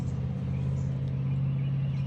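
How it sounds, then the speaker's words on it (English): A loud truck passes outside, heard as a steady low engine rumble with a droning hum that holds constant throughout. "I never realized how many loud trucks we have until I started doing these readings outside"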